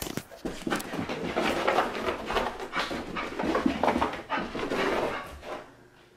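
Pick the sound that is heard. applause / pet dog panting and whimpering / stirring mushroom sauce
pet dog panting and whimpering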